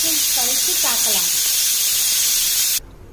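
A pressure cooker whistle while cooking chicken kuzhambu: a loud, steady steam hiss streams on continuously with faint squeaky tones riding over it, then cuts off abruptly near the end.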